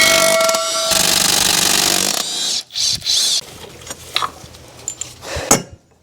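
Hand tools work on the 17 mm motor mount bolts of a 2013-2017 Honda Accord 2.4L, giving close, loud bursts of metallic clicking and rattling with short pauses between them.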